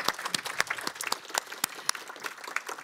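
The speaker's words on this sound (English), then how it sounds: "A big round of applause." Audience applause at a talk on excellence clusters, a burst of scattered hand claps of moderate loudness, uneven and fairly sparse, with no voices over it.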